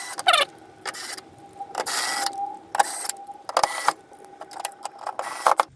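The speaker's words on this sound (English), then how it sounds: "As usual, I've got my cordless screwdriver." A cordless screwdriver drives screws into a PC motherboard inside a custom sleeper PC case, giving short whirring bursts, close and repeated, with brief pauses between them.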